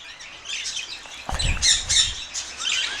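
Several budgerigars squawk and chirp in bright, overlapping bursts, with a busier flurry of calls in the middle and no one speaking.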